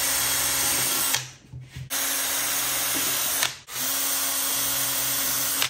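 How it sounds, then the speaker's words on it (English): A power drill runs at steady high speed while boring holes for a homemade snow gun, with two brief stops where the motor winds down and restarts, loud and close with no talk. "Then I'm going to drill a hole angled down."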